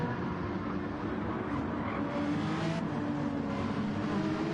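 Several Porsche GT race cars run through slower corners and a chicane at Suzuka in a sim racing game, engines droning steadily and loudly with overlapping revs and gear changes.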